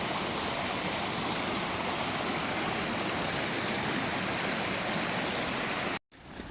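Stream water rushes steadily near Pha Eiang waterfall, a dense, continuous broadband wash heard close and alone, cutting off abruptly near the end.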